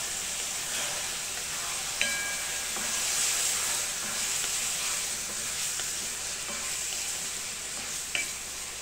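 Boiled potatoes and peas sauté in oil in a pan, giving a soft continuous sizzle and hiss, with a couple of sharp spoon scrapes against the pan.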